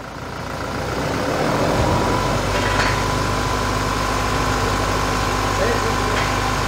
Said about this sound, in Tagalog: Okay, Babs, rev.